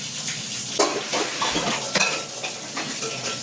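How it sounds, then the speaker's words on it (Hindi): Pots and dishes being scrubbed and washed at a busy kitchen on a mountain road trip in the Pedong to Sikkim region, steady watery hiss with repeated metallic clinks and scraping strokes, close and continuous. "कितने तेज बर्तन धोते हैं ये लोग।"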